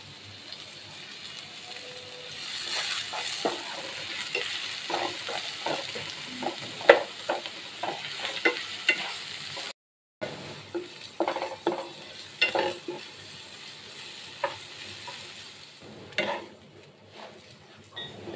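Small onions fry in a pan into crisp beresta, giving a crackling sizzle with frequent scraping stirs and spatula knocks against the pan. It runs for a long stretch, with a brief dropout midway and no speech.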